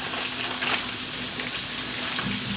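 Peas and carrots frying in hot oil in a pan, a steady close sizzle with a constant hiss and crackle throughout.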